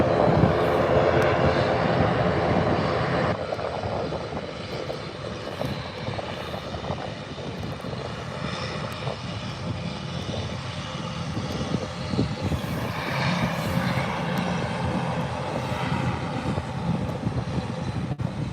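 ATR turboprop airliner arriving at Birmingham airport, a sustained propeller and engine drone that fades slightly as it rolls along the runway, heard from a distance outdoors with no voices.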